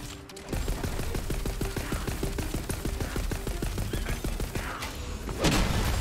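Gunfire in Tiny Tina's Wonderlands comes as a rapid, steady burst of automatic shots lasting several seconds, loud and close, with a heavier blast near the end.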